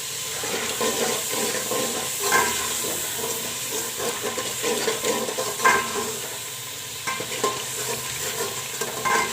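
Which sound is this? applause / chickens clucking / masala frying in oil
masala frying in oil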